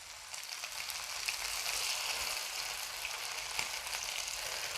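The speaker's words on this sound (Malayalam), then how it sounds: "തിരിച്ചും മറിച്ചുമൊക്കെ ഇട്ട് നമുക്ക് വറുത്തെടുക്കാം" Chicken lollipops fry in a modest amount of hot oil in a pan as they are turned over, giving a continuous close crackling sizzle with occasional sharper pops and no speech.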